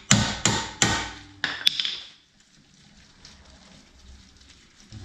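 Several sharp hammer blows ring against a brake rotor on a Honda S2000 during a front brake job, four loud metallic strikes in quick succession that fade into quiet garage ambience.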